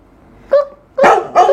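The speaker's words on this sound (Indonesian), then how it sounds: "Itu adalah suara anjing." A dog barks three times in a sound-guessing game: a short yip, then two louder, fuller barks in quick succession, close and clear against a quiet background.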